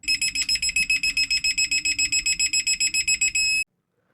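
A propane gas alarm on a sailboat beeps rapidly and evenly in a long string of sharp, high-pitched pulses, loud and close, then cuts off abruptly.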